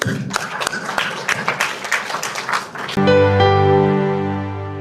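An audience claps at a government launch event for a child welfare strategy, broadband crowd applause over the first three seconds before sustained music takes over.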